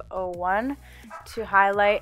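Dogs bark and yip indoors in a couple of short, fairly close bursts, with a whimpering tone between them, while a person talks over the top.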